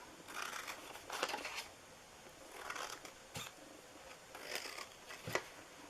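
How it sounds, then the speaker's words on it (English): Scissors snip through paper while a birthday gift box is being made, three bursts of close, crisp cutting strokes separated by short pauses, fairly quiet against a still room. "So the bottom part we're going to cut in here."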